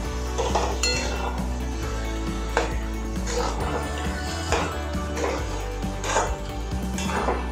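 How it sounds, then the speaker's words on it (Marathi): A spoon scrapes and clinks against a pot while chana dal puran filling is stirred over low heat, making steady, soft metallic knocks and scrapes with a low hum underneath. "आणि असं चांगलं हलवून घ्यायचं, खाली अजिबात दाबून द्यायची नाही"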